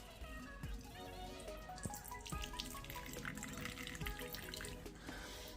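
Water poured into a small water bowl in a tarantula enclosure for an Amazon Blue Bloom spider, a faint, steady trickle and splash with scattered drips.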